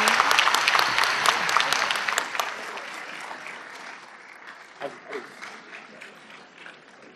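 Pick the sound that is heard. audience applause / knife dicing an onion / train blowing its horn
audience applause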